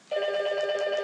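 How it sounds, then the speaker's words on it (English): A telephone rings with a steady, bright electronic trill that starts abruptly and continues at an even level, fairly clear and alone. "Shut up, phone!"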